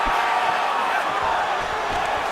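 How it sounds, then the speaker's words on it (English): A steady, dense crowd roar fills an arena in the UFC 4 video game between rounds of a simulated Tony Ferguson vs Tyron Woodley fight, constant and loud without clear peaks. "So the crowd voicing its appreciation after that round"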